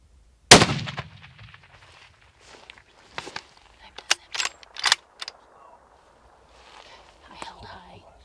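A single loud hunting rifle shot fired at antelope on an open California range cracks out near the start, followed by quiet rustling, faint footsteps and a few sharp clicks.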